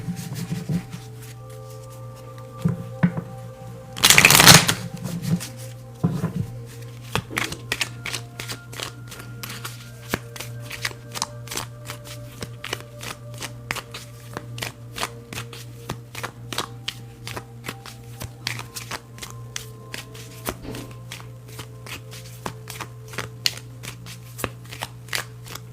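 Tarot cards shuffled during a reading, a long run of quick papery riffles and soft flicks close to the microphone, with one louder burst of rapid shuffling near the start and a steady low hum underneath.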